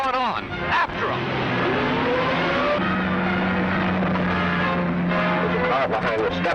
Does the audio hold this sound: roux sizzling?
no